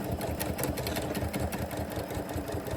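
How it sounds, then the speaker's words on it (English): A sewing machine stitching and backstitching quilt fabric, a close, rapid mechanical whirring and chattering with a steady rhythmic pulse, fairly loud, with no talking. "what I'm going to do is sew a stitch and then backstitch"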